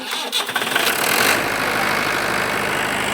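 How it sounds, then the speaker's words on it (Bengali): A diesel generator cranks and catches, then settles into a steady, loud running drone that fills the rest of the clip without any voices. "তো এখানে ডিজি স্টার্ট করছে"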